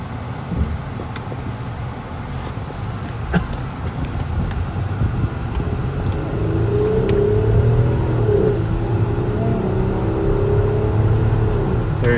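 A 2003 Lexus ES300 accelerates hard on a test drive, its engine note climbing and strengthening over twelve seconds beneath steady wind and road noise heard from inside the cabin, with a few light knocks.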